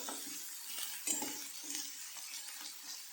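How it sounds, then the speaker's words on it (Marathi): Onion is sautéed and stirred in a pan for pithla, with a faint, soft sizzle and light, intermittent scraping and clinking of the spoon against the pan. "थोडीशी परतली की त्याच्यामध्ये घालायचा कांदा छान असा परतून घ्यायचा"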